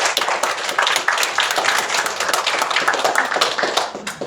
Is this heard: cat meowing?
no